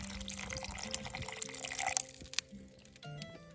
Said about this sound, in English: So I'm gonna just add a good amount of water here.